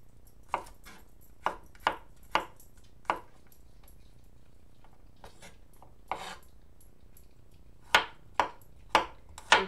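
A knife slicing tofu on a cutting board, giving sharp, distinct chops in small clusters with pauses between, close and clear, with no talking.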